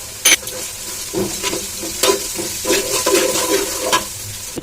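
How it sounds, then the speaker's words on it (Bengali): Ginger paste with cashews, pistachios, almonds and peanuts frying in a pan: a steady close sizzle broken by repeated scraping stirs and a sharp clatter at the start, continuing without talk. "আদা বাটাটা, তারপরে এই যে কাজু, পেস্তা ও কাঠবাদাম আর একটু চীনাবাদাম একসাথে দিয়ে দেবো"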